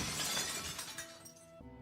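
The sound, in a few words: glass cup shattering, from a video game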